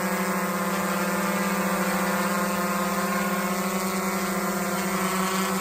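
A GoPro Karma drone hovers in place, its propellers giving off a steady, loud whine and buzz with constant tonal hum, unbroken and close by.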